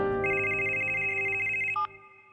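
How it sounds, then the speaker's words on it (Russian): Telephone in an apartment ringing with a steady electronic trill for about two seconds, loud and close, then cutting off abruptly; no talking. "Да, телефон именно так и звонит"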